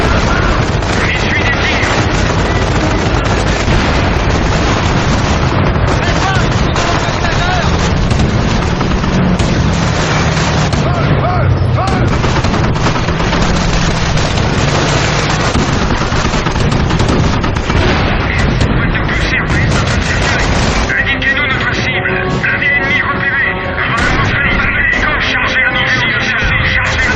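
War film battle with gunfire and artillery fire in a dense, continuous roar of shots and booms. Voices shout under the din throughout.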